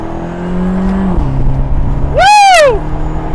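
Vanderhall Speedster engine drops a gear, its note dipping, then surges into a loud, rising rev that climbs and falls back, close and forceful.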